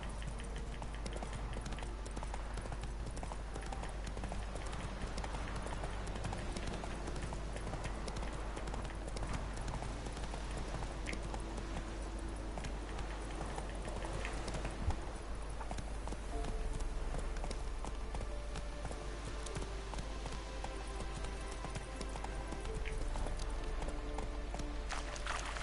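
Horse galloping in a PS4 video game, a fast, steady clip-clop of hooves running continuously under a low constant hum, with occasional faint voice.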